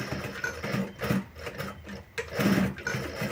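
Sewing machine back stitching along the edge of a sling bag, its needle running in short close bursts that stop and restart as the direction reverses, with no voices.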